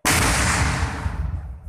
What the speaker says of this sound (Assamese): सेफ ग्राउंड पे ला के उसको सेफली डिटोनेट करके उसको ख़त्म